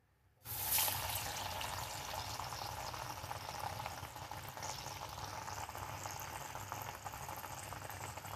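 Dal vadas, lentil fritters, drop into hot oil on medium flame and deep-fry with a loud, steady bubbling sizzle that starts abruptly and runs unbroken, close by and alone.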